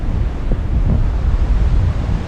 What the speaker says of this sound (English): This is southwest swell coming in from the Indian ocean.